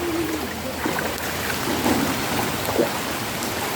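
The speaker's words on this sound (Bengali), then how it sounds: "বৃষ্টি চলতেছে" Steady rain falling during flooding around village houses, a dense continuous hiss of rainfall on water and surfaces, close and fairly loud, with no voices.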